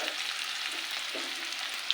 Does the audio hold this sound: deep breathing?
no